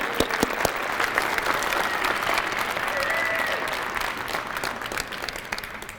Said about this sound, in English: can we have a round of applause for all the awards recipients tonight?